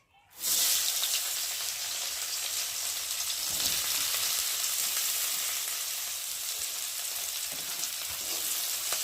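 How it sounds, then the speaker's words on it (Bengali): Chopped onions hitting hot oil in a wok after fish has been fried, a sudden loud burst of sizzling that settles into a steady, dense hiss with a faint clink partway through. "আর এখন আমি দিয়ে দেবো কুচিয়ে রাখা পেঁয়াজ"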